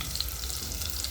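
Onions frying and sizzling in a pan while being stirred, a steady close crackle with faint scraping, no talk.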